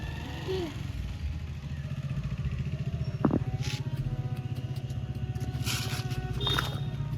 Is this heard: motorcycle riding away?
yes